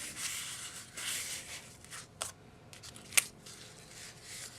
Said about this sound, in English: I'm just going to fold that in half.